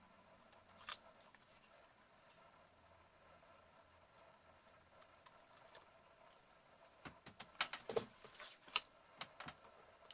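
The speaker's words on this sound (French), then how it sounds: "je vais simplement couper les parties dont je n'ai pas besoin" Scissors snip through paper-craft parts for a handmade shaker card, soft, quiet cuts scattered through the first seconds, then a denser burst of crisp close snips and clicks toward the end, with no talk.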